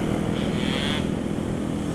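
Kawasaki Ninja R 150 two-stroke motorcycle engine at high revs while riding, a loud continuous buzzing drone with a brief rising whine, close with wind noise.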